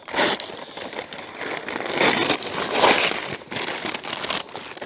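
Paper leaf bags crinkle and rustle loudly up close as they are torn and handled in a garden, with bursts of crumpling and scraping that rise and fall in a rough, irregular rhythm.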